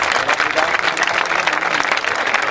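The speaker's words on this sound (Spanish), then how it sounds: "Un fuerte aplauso para todos ellos" Audience applause at the AD Alcorcón presentation of new kits and an advertising spot, a loud, dense wash of clapping that holds steady for the whole stretch.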